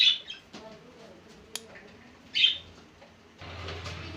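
Small caged Java sparrows and lovebirds give a few short, bright chirps, with a louder burst near the middle and a faint flutter-like rustle toward the end, in an otherwise quiet room with no talking.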